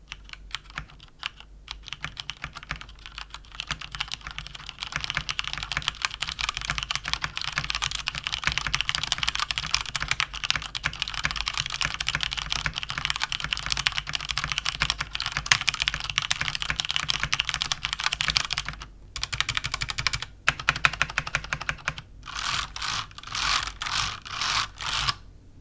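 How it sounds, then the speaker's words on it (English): Rapid typing on a Gigabyte Aorus K7 mechanical keyboard with Cherry MX Red switches, close and fairly quiet, a continuous patter of keystrokes with a couple of short pauses near the end. "so here's a typing sound test."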